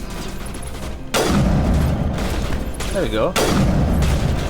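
Gunfire in the Mass Effect Legendary Edition on Xbox Series X, coming as dense, loud bursts of shots and booms that begin a second in and keep going nearly without pause, with someone talking briefly over the battle.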